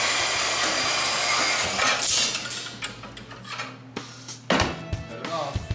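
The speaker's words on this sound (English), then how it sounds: "then use my portable bandsaw" A portable bandsaw cuts through 3/8 rebar clamped in a vise. A close, harsh grinding whine fades out and is followed by scattered metallic clatter and handling noises.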